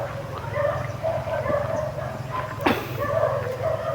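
Several dogs bark in a rhythmic series of yaps at moderate distance over a steady low engine hum, with one sharp louder bark partway through.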